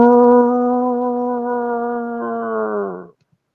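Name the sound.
voice imitating a loud roar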